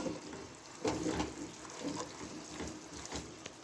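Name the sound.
washing a bowl with water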